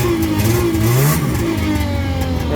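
A 1991 Arctic Cat Lynx 300 snowmobile, an old worn sled, has its small engine revved up close, the pitch rising then dropping back to a rough idle over a few seconds.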